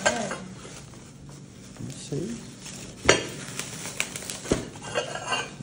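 Dishes and plates handled at home, with irregular ceramic clinks and knocks, some sharp and close, under a person talking briefly.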